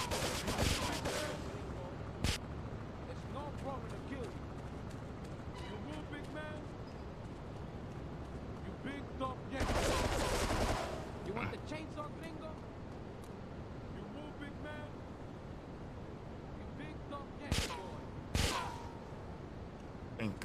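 M16 rifle fire in Grand Theft Auto III, The Definitive Edition: a few scattered sharp shots and one longer burst of gunfire break out over almost constant talking and game background noise.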